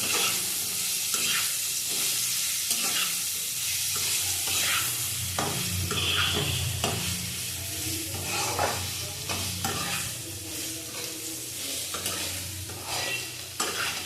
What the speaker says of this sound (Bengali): আবার ভেজে নেবো